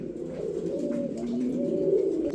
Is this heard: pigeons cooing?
yes